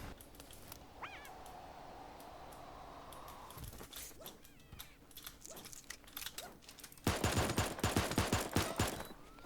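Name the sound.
shotgun gunfire in the video game Super Animal Royale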